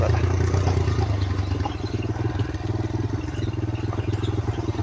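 A motorcycle engine running steadily up close on a slippery, muddy mountain road in the dry season, a rough, pulsing drone with some clatter and no talk.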